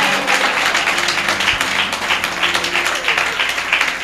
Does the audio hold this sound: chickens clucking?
no